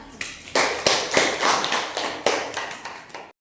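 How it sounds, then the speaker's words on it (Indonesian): Primary school students in a classroom applaud a group that has just presented, giving a loud, close burst of clapping with sharp sharper slaps standing out, lasting a few seconds before it tapers off. "Kasih tepuk tangan dulu untuk kelompok 1"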